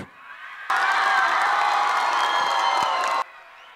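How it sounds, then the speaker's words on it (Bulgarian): A concert crowd at a show bursts into loud cheering and applause for about two and a half seconds, with screams and whoops, before cutting back to quieter room sound. "Искам първо един силни аплодисмент само за нашите 3 дами."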